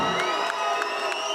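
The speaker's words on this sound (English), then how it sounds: "David Hart with rapturous applause from the crowd" A boxing crowd cheers and whoops as a fighter is introduced in the ring, a sustained wash of shouts with a few louder bursts rising and falling.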